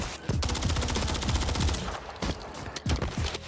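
Rapid automatic gunfire in the shooter Warzone 3 rattles in loud, close bursts of sharp repeated shots, with a brief pause before the firing resumes.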